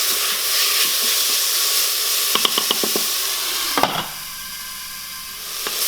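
Garlic, ginger, turmeric and salt mixed into onions in an Instant Pot, making a loud steady sizzle and hiss with a burst of quick spoon taps against the metal insert, then a quieter hiss.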